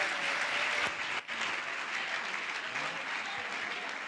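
Church congregation at a Tuesday service applauding together, a steady dense wash of clapping that fills the whole stretch without a break, close and moderately loud, with no one speaking over it.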